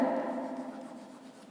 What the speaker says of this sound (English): So, I'll write here